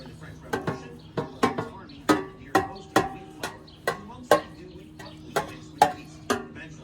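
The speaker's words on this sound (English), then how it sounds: "So we got to trim all that and take the membrane off on each one of these ribs." A knife trims membrane and fat off pork ribs. Close, sharp cutting strikes land at an uneven pace, roughly a dozen over several seconds, with no talk.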